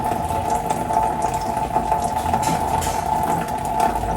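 Tap water runs steadily as hands are washed underneath, a continuous close splashing rush with no speech.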